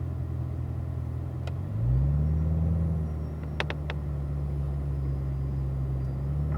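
Cars move out single file onto a race track, a deep engine rumble rising as one vehicle pulls away, then settling into a steady low drone, with a few faint clicks above.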